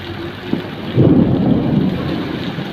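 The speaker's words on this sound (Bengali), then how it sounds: "এই বৃষ্টির জন্য অবশ্য এখন স্বস্তি ফিরে আসছে ঠান্ডা বাতাস এবং বৃষ্টি" Rain falls steadily and a low thunder rumble swells after the first second, rolling on near and loud, with no one speaking.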